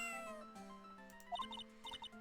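A cat meowing in the Ace Attorney: Justice for All video game, a short synthesized meow with tonal, harmonic notes over soft game music, fairly quiet and without talk.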